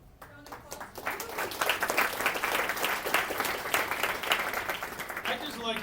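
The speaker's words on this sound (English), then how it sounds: "Round of applause." A hackathon audience applauds, a dense, steady round of clapping that swells quickly and keeps going for several seconds.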